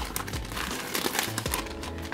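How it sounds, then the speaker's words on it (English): Cellophane bags and poly mailers being handled for packing shipping orders give a continuous close crinkling and rustling of thin plastic, steady throughout with a few sharper crackles. "Now it's time to go get the cellophane bags and the poly mailers."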